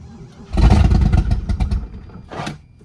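A 1981 Cadillac Eldorado engine cranks and catches, then revs loudly with a clattering rumble, dies down, and gives one more shorter rev, recorded up close.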